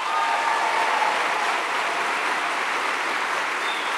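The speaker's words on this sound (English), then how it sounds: "One more round of applause for her." A live show audience in Seattle applauds in a dense, steady wash of clapping that stays loud and even throughout, with no speech over it.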